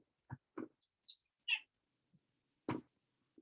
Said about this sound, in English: Introduce you guys to Salem the cat